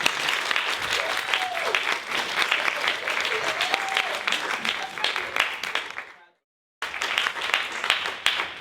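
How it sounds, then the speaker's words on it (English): Audience applause at a science event, a crowd clapping loudly and steadily with a few voices and whoops mixed in, cutting to silence briefly before clapping resumes. "Give them a round of applause, please."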